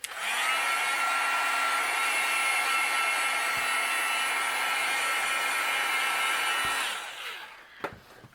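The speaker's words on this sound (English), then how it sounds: "I'm going to use my heat gun to kind of help dry the ink" A heat gun blows to dry ink on a papercraft card, a steady loud whooshing hum held for about seven seconds before switching off, followed by a couple of faint clicks.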